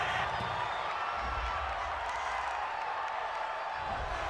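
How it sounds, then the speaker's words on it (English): A gridiron football stadium crowd reacts to a roughing-the-passer penalty call, a broad, sustained roar of voices heard from a distance, steady and unbroken throughout. "this crowd does not like that call"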